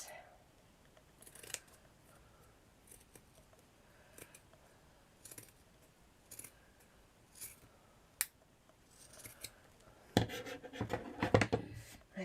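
Scissors snipping the top off a handmade Santa gnome craft, heard as sparse, quiet close-up clicks and cuts, then a busier flurry of snipping and rustling near the end.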